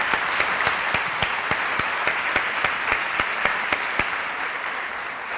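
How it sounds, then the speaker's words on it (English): Clapping from an audience at a PTSA life member awards ceremony, honoring Mary Sue; a moderate, even round of applause with distinct rhythmic hand claps standing out above the crowd's steady patter for the whole stretch. "can we have a round of applause for Mary Sue, who does an amazing job with this event"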